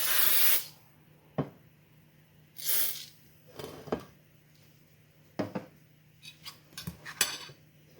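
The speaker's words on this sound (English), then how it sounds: "I'm just going to spray a glass lid pan here." A few short hissing bursts of cooking spray on a glass pan lid, a couple of seconds apart, mixed with clinks of cookware on the lid.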